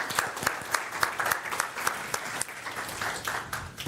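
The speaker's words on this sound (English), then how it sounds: "Premature clap, but that's okay." Scattered clapping from the audience at a county economic development town hall meeting, individual claps distinct at first, then thinning out and fading.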